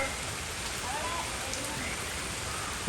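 Steady rain falls with a dense, even hiss throughout, constant and fairly loud, without pauses.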